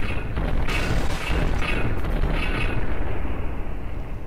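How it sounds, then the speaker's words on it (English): Explosions and artillery missile impacts in the naval combat game From The Depths produce booming, rumbling bursts that roll on continuously, loud and close, with no talking. "Oh, big explosion."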